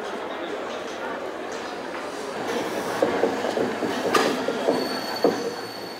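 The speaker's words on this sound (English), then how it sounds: "Tornado gently slips through the station to take up its position before the royal guests of honour arrive by train." Steam locomotive 60163 Tornado eases slowly through York station, a steady rolling rumble with wheel and rail noise building midway, heard under crowd murmur and a voice talking.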